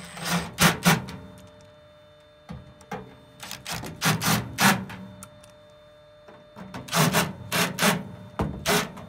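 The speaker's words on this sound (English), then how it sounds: "Got the wrong nut runner in there. I thought that sounded weird." A nut runner driving screws on a York blower motor during a replacement, giving short repeated bursts of whirring and rasping in uneven clusters, close and moderately loud, with no voices.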